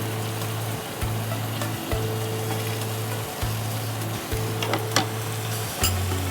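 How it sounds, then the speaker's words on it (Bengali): Hilsa fish korma sautéing in a pan, with a steady close sizzle and frying crackle throughout and periodic scrapes and stirs; no one speaks. "কিছুক্ষণ কষিয়ে নিচ্ছি।"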